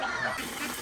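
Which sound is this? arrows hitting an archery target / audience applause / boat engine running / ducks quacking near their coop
ducks quacking near their coop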